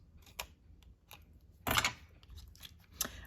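Scissors cut thin double-sided foam tape into quarters, with a few sharp, close snips spaced apart and one louder, longer crunching cut in the middle, all in a quiet room.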